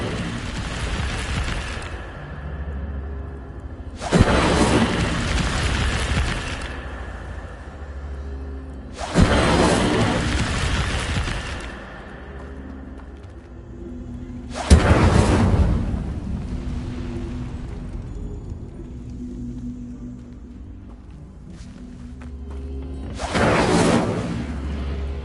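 Fire spell blasts cast in Hogwarts Legacy, heard as five loud, whooshing bursts spaced a few seconds apart over a steady game soundscape, each flaring suddenly and then trailing off.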